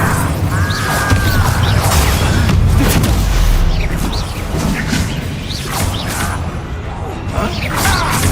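A fire spell cast in the Hogwarts Legacy video game, heard as a loud, sustained roaring whoosh with booming impacts and crashing bursts over dense battle noise, with brief voices mixed in.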